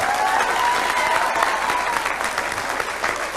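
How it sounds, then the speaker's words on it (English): Audience applause greets a guest introduced during a Joe Biden speech event in 2000, a dense, steady wash of clapping that stays full and loud for the whole stretch. "Give him a nice round of applause."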